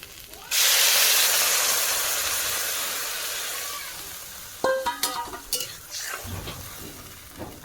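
Water poured into a pan of fried banana and potato curry tempered with cumin and chilli bursts into a loud hiss that slowly fades, followed by several sharp utensil clinks.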